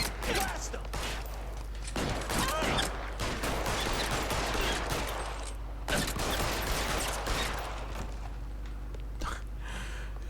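Gunfire in the video game L.A. Noire, bursts of rapid shots with sharp cracks in clusters over about ten seconds, mixed with game action noise and occasional voices.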